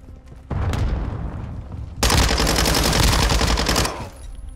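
Warzone 2.0 DMZ gunfire: rapid automatic bursts, loud and close, with a short burst first and then a longer, heavier stretch of continuous fire before it cuts off.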